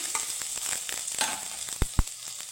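Grated ginger frying in mustard oil gives a steady, bright crackling sizzle close up, broken near the end by two sharp knocks of a utensil against the pan.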